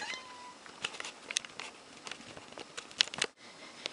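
A pet cat performing tricks at home gives short meows amid soft pattering and rustling, close and fairly quiet, with a brief pause near the end.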